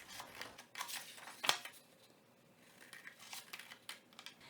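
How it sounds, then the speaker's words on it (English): Paper corners snipped with a pair of scissors while making a pop-out paper box; quiet, crisp cutting and rustling sounds come in short bursts, with one sharper snip near the middle. "You're gonna cut out the 4 corners with a pair of scissors."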